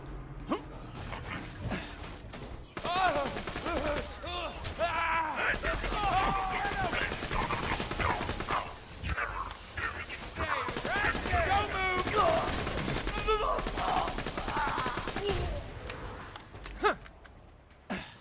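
Pistol fire in Borderlands 2, Pandora's Box playthrough on PC: bursts of rapid shots and busy combat effects over most of the stretch, loud and continuous, with game character voices and a dog-like creature sound mixed in.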